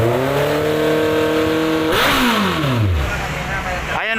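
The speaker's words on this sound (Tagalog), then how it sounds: "Ayan o, CB650R." A Honda CB650R motorcycle engine revs up and drops back in a few sharp throttle blips. The note falls, then a fresh rise cuts in at the end, close and loud.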